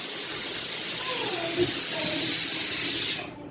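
Pressure cooker whistle venting in a home kitchen, a loud continuous steamy hiss that holds steady for about three seconds, then cuts off abruptly, with faint voices in the background.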